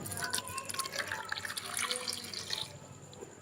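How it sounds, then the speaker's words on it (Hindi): Four glasses of water are poured over whole, scored plums in a pot for plum sherbet, a faint, uneven splashing and trickling that runs for a few seconds, then tapers into quiet. "अभी इसमें 4 गिलास हम पानी के ऐड कर देंगे।"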